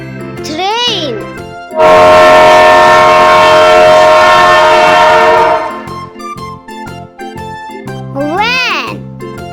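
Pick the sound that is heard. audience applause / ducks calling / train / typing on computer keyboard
train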